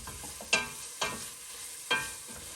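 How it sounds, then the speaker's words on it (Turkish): Vegetables being stirred in a pan while cooking for a bulgur pilaf, with three distinct scraping stirs over a soft, steady background sizzle; no talking. "sebzeleri şimdi sırasıyla atarak, karıştırarak nüfus edip pişireceğiz"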